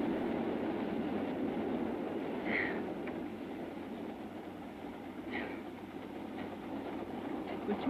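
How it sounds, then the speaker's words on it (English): Steady low rumble of a moving train with sleeping berths, continuous and even throughout, with a couple of faint high clicks over the drone. "Could you really sleep on a train with all that chugging going along?"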